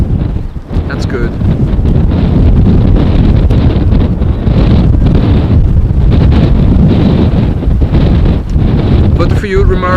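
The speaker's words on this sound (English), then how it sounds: "wind sounds harder in the mic than it looks over there" Heavy crosswind buffeting a microphone at Amsterdam Schiphol Airport during plane spotting of arrivals on runway 18R: loud, continuous, low roaring rumble with gusty surges, and brief faint talk near the end.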